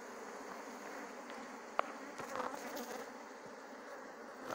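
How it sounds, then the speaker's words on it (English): Bees streaming out of a hive, a steady close buzzing drone holding throughout with one brief sharp tick in the middle. "bees don't get tame, eh? Look at that, watch that. See how they're coming out there, watch."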